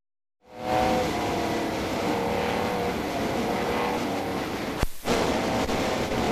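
A new BRM racing car's engine fires up after a moment of silence, then holds a loud, rough, continuous roar for several seconds, broken by one brief sharp crack near the end.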